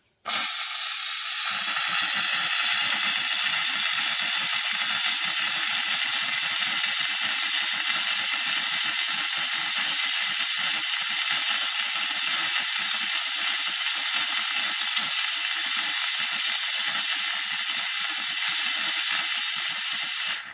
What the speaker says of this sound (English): at first it does spit a lot of water out. And it will turn to steam